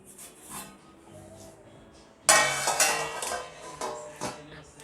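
A lid clatters onto a hot kadhai holding a semolina cake mould for stovetop baking, a sudden metallic clang and rattle of cookware after quieter kitchen handling.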